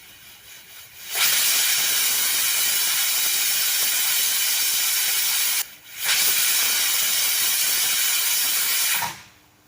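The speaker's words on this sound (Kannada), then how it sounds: "ಎರಡು ವಿಸಿಲ್ ಆಯಿತು, ಸ್ಟವ್ ಆಫ್ ಮಾಡುವ." A pressure cooker on a stove releases two long, loud, steady bursts of hissing steam, each lasting several seconds with a short gap between them, close by.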